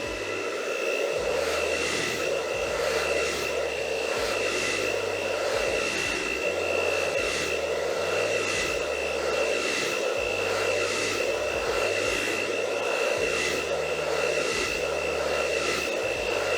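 A hair dryer blows steadily on high heat at medium airflow while a haircut crown is styled, a continuous loud whooshing roar with a steady whine, pulsing slightly as it is moved around.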